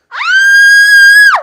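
A single loud, sustained human scream rises sharply, holds a steady high pitch for over a second, then falls away, heard alone and close.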